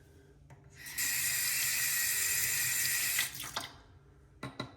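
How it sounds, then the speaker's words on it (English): A bathroom tap runs in a strong, steady stream during a wet shave, loud and close for about two seconds before cutting off, followed by a few small splashes and knocks. "A little more water."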